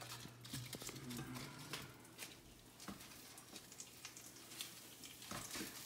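Oil sizzling and frying in a pan as cut-up pork fillet pieces are added, a steady close crackle with a few sharper pops and stirring knocks throughout.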